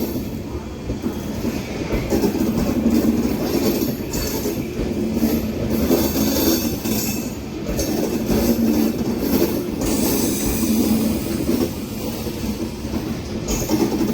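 Amrit Bharat 2.0 Express, a non-AC train on the Thiruvananthapuram–Charlapalli inaugural run, rumbles steadily along the rails with a continuous loud low drone and faint clickety-clack, heard from on board with no talk.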